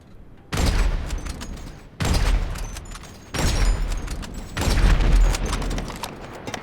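Video game gunfire aimed at bringing down a jet: four heavy, sustained bursts of rapid shots, each lasting about a second and separated by short pauses, loud and close with a booming low end.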